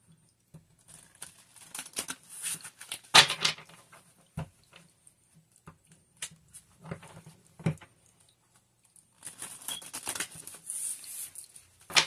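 Cards being shuffled for a spiritual reading, heard as quiet, close, irregular bursts of soft riffling and slapping separated by near-silent pauses, with the busiest stretches near the start and the end.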